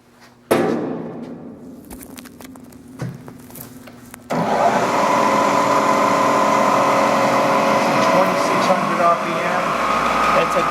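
A Bridgeport Series 1 2hp milling machine spins up to 3,300 RPM: after some clunks and a brief low hum, the motor kicks in abruptly and holds a steady, loud, high-pitched whirring drone close by.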